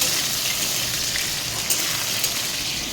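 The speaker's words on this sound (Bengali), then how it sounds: "আজকে এখানে বৃষ্টি হচ্ছে প্রচণ্ড বৃষ্টি হচ্ছে" Heavy rain pours down steadily in a dense, hissing wash of noise, loud and unbroken, with a couple of faint drip-like ticks near the end and no voices.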